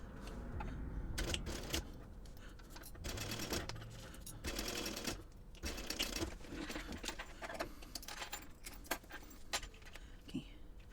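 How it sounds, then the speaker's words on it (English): Quiet, steady rattling of a sewing machine stitching a 3/8 inch seam on a small purse, a continuous close whir broken by brief pauses and light clicks throughout. "Now I want to sew this using a 3/8 inch seam allowance."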